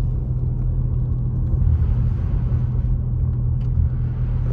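Car driving along Oak Street in Big Bear before a snowstorm, heard from inside as a steady loud low rumble of engine and road noise with no change in pace.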